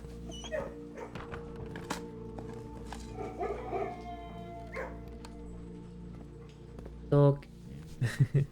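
A dog in the video game Blue Prince barks, yips and whimpers in short bursts, with a louder cluster of barks near the end, mixed under game music and a person talking.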